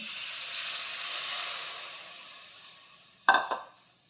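Okra with gram flour fries in a hot pan with a soft, steady hiss, then a sudden loud burst of sizzling as a little water is poured in near the end.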